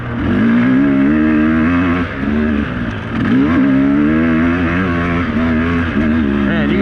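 A Sherco 300 Factory Edition dirt bike engine pulls hard under acceleration, a loud, close, continuous two-stroke drone rising and dipping in pitch as the rider works through the power, with a brief dip midway.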